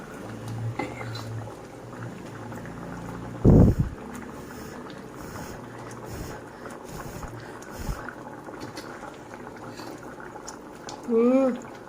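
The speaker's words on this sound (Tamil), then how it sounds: "ஒரு 5 மினிட்ஸ் கொதிக்கட்டும்." A pot of murungakkai and mango sambar simmers with a low, steady bubbling. A sharp clunk cuts in partway through, and a brief voice is heard near the end.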